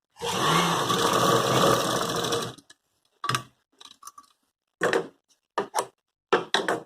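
A sewing machine stitches thick suit fabric with a lining in one steady, loud run of about two and a half seconds, followed by sparse soft rustles and clicks of the cloth being handled.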